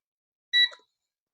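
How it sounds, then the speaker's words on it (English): A digital multimeter gives a single short, high electronic beep as it powers on, alone in otherwise silent surroundings. "you turn on the multimeter"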